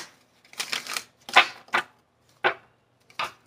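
Tarot cards shuffled and drawn by hand, a string of short papery riffles and flicks in uneven bursts with quiet gaps between them, close and clear with no talking.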